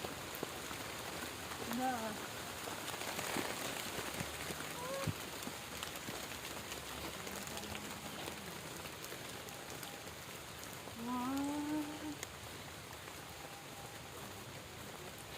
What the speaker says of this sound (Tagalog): Come here. It's raining.